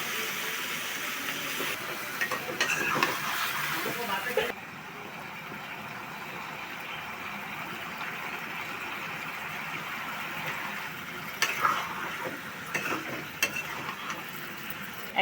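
Eggplant and potatoes fry in a pan with puti fish and green chilies, making a continuous sizzle with occasional stirring clatter near the pan.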